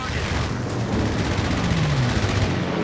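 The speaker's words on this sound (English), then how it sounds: "I'm going to use the strafing run on this" Strafing run by US Forces planes in Company of Heroes 3: dense, continuous rattling gunfire and rumbling blasts packed together, loud and unbroken, with a low engine drone sweeping past.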